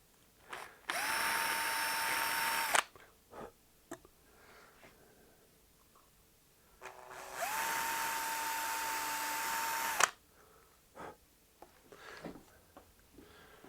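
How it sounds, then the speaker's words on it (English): A tiny hand-held electric drill bores holes for guitar pickup rings in two separate runs of about two seconds each, whining loudly up close with small handling knocks between them. "I'm going to take my drill bit and a tiny drill and drill those holes"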